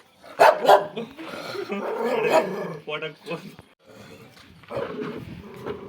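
A dog barks loudly and close by in several sharp bursts, with growly, rough tones between them; some human voice may mix in. Recorded in rural Coorg.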